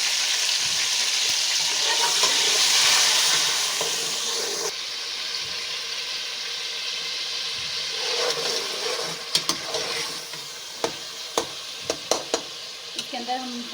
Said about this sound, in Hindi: अब साथ ही हम टमाटर शामिल करेंगे ताकि इसका अच्छे तरीके से हम मसाला बना सकें